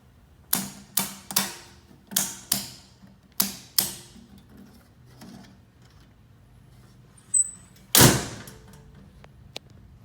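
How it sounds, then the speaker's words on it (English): Light switches in an abandoned Shari's restaurant in Salem, Oregon are flipped off one after another: six crisp, close clicks in quick succession, a pause, then a few more scattered clicks including one sharper, louder snap. "Now I'm gonna turn all the lights off."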